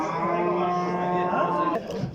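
Cattle at a livestock market give a long, loud, sustained moo close by over the murmur of the crowd, with a brief clatter at the end.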